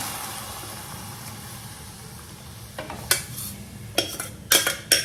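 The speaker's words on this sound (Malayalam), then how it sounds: "കുക്കറിലെ വേവിച്ച ബീഫ് നമ്മൾ ഇതിലോട്ട് തട്ടാണ്." Pressure-cooked beef is tipped from a cooker into a pan and stirred, with a faint sizzle underneath, then a series of sharp scraping and clattering knocks from a spoon against the metal.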